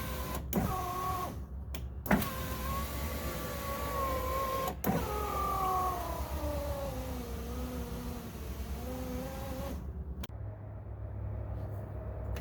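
The power window motor of a 1997-2004 Buick Regal, with a newly replaced window regulator, whines as the glass travels, with several runs of rising and falling motor tone broken by clunks as the window stops, close and fairly quiet.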